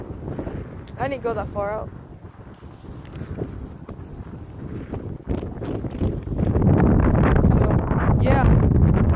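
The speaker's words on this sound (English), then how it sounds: "Today, it's so windy again." Strong wind blows across the water on a fishing outing after alligator gar, a rough, buffeting roar on the microphone under a man's speech that grows louder and heavier toward the end.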